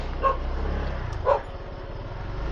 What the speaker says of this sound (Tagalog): May mga tatahol na aso na dito